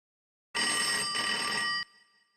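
A bright electronic telephone ring sounds once, steady for just over a second against silence, then cuts off abruptly.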